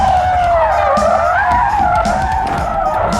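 A car brakes hard with ABS on a 1994 demonstration drive, tires skidding and squealing loudly and continuously at close range over the engine noise.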